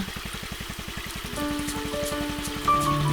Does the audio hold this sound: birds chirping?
no